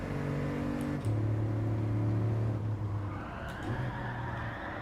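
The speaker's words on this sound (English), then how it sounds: "When the truck spins, we all spin." A Toyota truck spins out in the Gran Turismo 7 racing game, its engine droning steadily before the pitch drops and shifts as it slides, loud and close with no voices.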